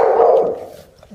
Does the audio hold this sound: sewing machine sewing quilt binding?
no